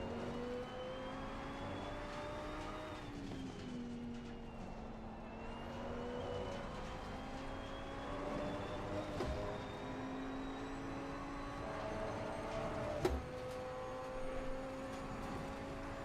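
A KTM race car engine at the Red Bull Ring in Assetto Corsa Competizione drones with a steady high-pitched tone, rising and falling through gear changes over sixteen seconds, heard alone without voices.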